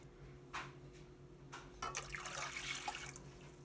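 Water and vinegar being poured into a pot for pickling jalapeños and carrots, a quiet splashing pour that starts in short bursts and then runs steadily over a low background hum.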